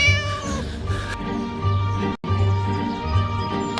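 A cat meows repeatedly inside a scary video game level about saving a cat, loud drawn-out calls with a steady musical game soundtrack running underneath and a brief dropout partway through.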